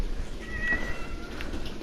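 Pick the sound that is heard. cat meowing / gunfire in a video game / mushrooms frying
cat meowing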